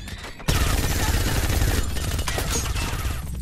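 Dense gunfire in an action-movie combat scene, loud continuous bursts and rattling shots starting abruptly after a brief quieter lead-in and sustained throughout with booming low end.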